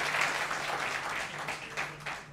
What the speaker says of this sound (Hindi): तालियां महिला के लिए